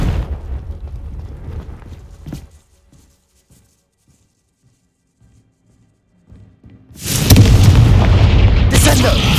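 A Confringo blasting spell bursts in the Hogwarts Legacy video game, a loud booming explosion with a sharp crack that erupts after a near-silent pause and roars on to the end.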